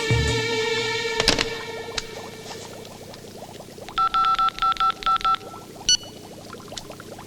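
A telephone keypad is dialled in a Malayalam comedy film scene, six quick electronic tones pressed in a steady rhythm followed by one more beep, fairly clear over a soft background score.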